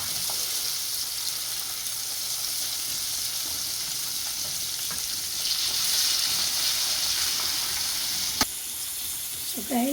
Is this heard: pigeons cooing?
no